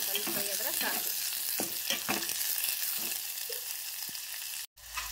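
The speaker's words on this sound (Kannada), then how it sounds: "ಉಳ್ಳಾಗಡ್ಡೆ ಒಂದು ಸ್ವಲ್ಪ ಫ್ರೈ ಮಾಡ್ಕೋಬೇಕು" Onions sizzle and fry steadily in a hot pan, a dense continuous crackle with scattered stirring scrapes, close and alone, cutting off briefly near the end.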